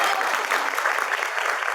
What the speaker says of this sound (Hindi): मैं चाहती हूँ कि आप सब हमारी प्रिंसिपल साहिबा के लिए तालियां बजाएं